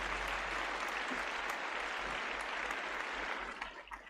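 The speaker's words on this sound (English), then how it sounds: "We'll give him one more round of applause." A crowd gives a round of applause at a live paranormal open-line event, steady dense clapping that fills the stretch and thins slightly at the end.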